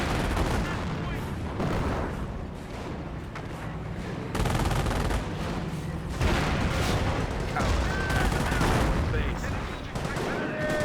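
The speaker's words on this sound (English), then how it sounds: "Bit of fire there onto the bunker." Battle gunfire in the video game Company of Heroes as units fire on a bunker, a dense continuous stream of rattling shots and distant booms, mixed under game audio.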